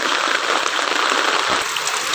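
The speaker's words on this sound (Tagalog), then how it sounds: "ito ay umuulan na naman makikita ninyo dahil may bagyo na naman" Steady, dense rain pours down during a typhoon in the Philippines, a continuous hiss of water spattering on surfaces close by with no pauses throughout.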